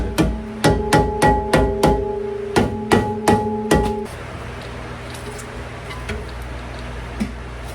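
A series of sharp, resonant knocks in quick bursts from a rubber mallet striking a Mercedes CLS63 wheel bearing assembly, then stopping, leaving a low hum and faint background noise.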